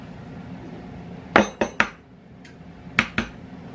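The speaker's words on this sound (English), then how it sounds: "I always crack them in a separate bowl" Eggs cracked on a bowl rim for a batch of wet ingredients, heard as a few sharp, close knocks and clinks in quick pairs against a quiet kitchen background, with no talking.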